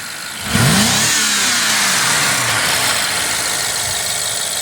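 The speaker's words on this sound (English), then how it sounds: "So we'll go ahead, rev it up." 2011 BMW 550 with an N63 twin-turbo engine revving under the hood, a sharp rise in engine pitch followed by a falling whine, then a steady loud hum, close by with no talking.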